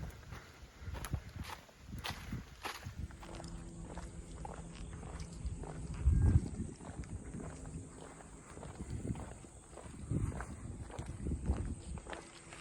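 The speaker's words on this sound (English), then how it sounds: "A couple of horses." Horses' hooves clop on the ground in an uneven walking rhythm on a hiking trail near Cave Run Lake, fairly close, with outdoor ambience and a few louder thuds partway through.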